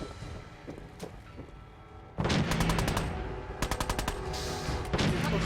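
Fallout 4 gunfire during play: a low muffled stretch gives way to loud, close bursts of rapid automatic shots in clustered rhythmic volleys with no voices.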